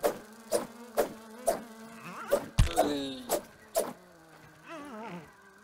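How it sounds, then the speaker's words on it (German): A housefly buzzes in the Grounded survival game, a wavering drone that pulses in short repeated bursts with a few sharper clicks, fairly close and heard on its own. "Oh, eine Fliege"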